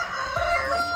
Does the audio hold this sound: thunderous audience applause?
no